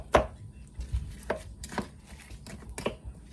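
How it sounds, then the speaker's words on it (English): Pie crust being chopped in a home kitchen with a wooden spoon, a series of irregular knocking taps against a surface, soft and close, with one sharper hit at the start. "Chopping with a wooden spoon"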